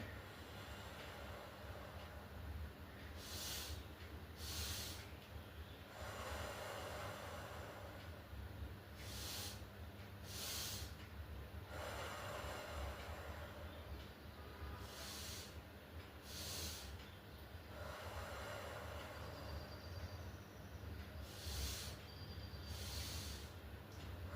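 A person doing pranayama for high blood pressure breathes in rhythmic cycles, with sharp, hissing breaths repeated in pairs and a long exhale through the mouth, close and quiet, with no talk.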